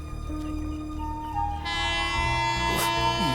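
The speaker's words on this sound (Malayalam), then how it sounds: "കൃഷ്ണ ഈശ്വര ട്രെയിൻ വിട്ടല്ലോ." Train pulling away from a station in a film scene, a rumbling rail noise with a sustained horn-like tone swelling up partway through.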